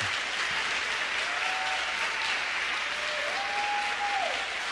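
A church audience applauds as dense, steady clapping that fills the space evenly from start to finish, with a faint tone drifting underneath.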